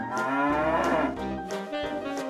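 A dairy cow about to be milked moos loudly and close by, in a few drawn-out, tonal lowing calls that run across the whole short stretch with no talk.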